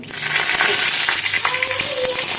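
Whole dried red chillies, bay leaves, cumin and nigella seeds crackle and sizzle loudly in hot oil in a wok, a dense steady frying hiss with scattered popping.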